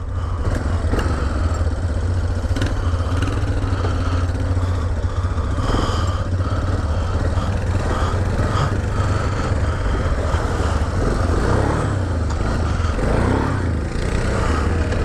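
Yamaha Big Bear 400 ATV on a test ride, its engine loud and close, revving and pulling continuously with rattling clatter and wind buffeting throughout.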